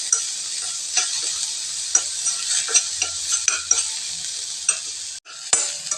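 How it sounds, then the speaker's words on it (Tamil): Ginger garlic paste sautés in a hot pan for an egg dish, giving a steady bright sizzle broken by regular scraping and stirring strokes, close and alone with no talk. "இஞ்சி பூண்டு விழுது சும்மா கொஞ்சமாக சேர்த்துக்கிறேங்க. இதுவும் இதுலேயே வதங்கட்டுங்க."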